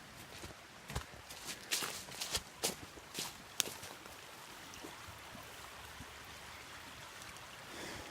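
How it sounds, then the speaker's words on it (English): Footsteps crunch irregularly through woodland beside a swollen creek running high, the steps loud and close early on while the water's steady rush continues underneath. "Let's check out the creek."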